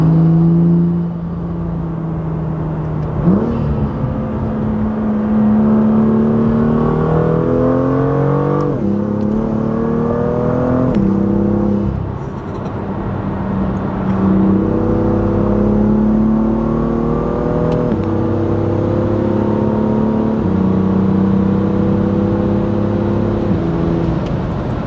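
A 400 hp BMW M2 pulls up onto a dike, its engine loud and close, rising in pitch through several gear pulls with brief dips at each shift and a steady drone between.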